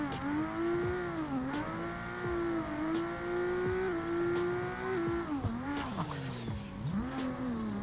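A drift car in Assetto Corsa slides sideways at Emerald Coast Dragway, its engine holding a steady high-revving note that dips and rises with throttle changes, with tire squeal throughout.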